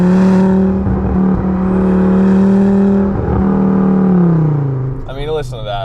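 A Volvo S60R's 2.5-liter turbocharged five-cylinder engine revs loud and close, holding a steady throaty drone before the pitch rises and falls away, with someone talking over it.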